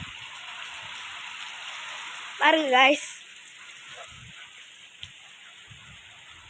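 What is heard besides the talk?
heavy rain falling in a village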